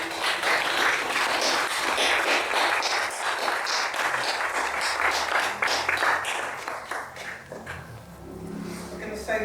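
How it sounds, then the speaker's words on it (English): Applause from mourners at a memorial service, a broad wash of many hands clapping together that thins and fades toward the end, with some voices mixed in. "A lot of clapping today,"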